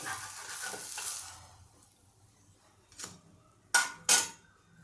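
Faint sizzle from a pan of cucumber cake (tavsa) fades as the gas is switched off, then a few clear metallic clinks and scrapes of the pan and utensil ring out as the cake is lifted, with no talk.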